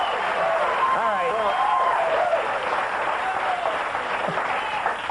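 A late-night talk show studio audience applauds in a continuous, even wash of clapping that holds throughout, with voices talking over it.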